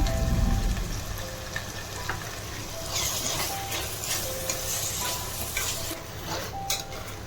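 Drumstick pieces cook in a pan with tomato, turmeric and cumin powder, giving a steady close sizzle with occasional stirring scrapes, no voices.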